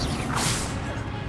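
A spell cast in Hogwarts Legacy, heard as a single loud whooshing, whip-like swish that sweeps through the middle of a short burst over a constant game background.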